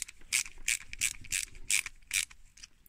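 Six crisp, evenly spaced ratchet-pawl clicks from a small plastic turbine part on a KITT model kit, close up and faint, with a light mechanical rattle underneath.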